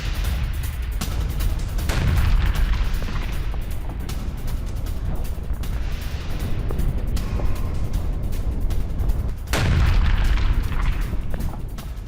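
Russian missile strikes in Mykolaiv, a series of heavy, deep booms and rumbling blasts with sharp onsets around two and nine and a half seconds, echoing over a loud, noisy background.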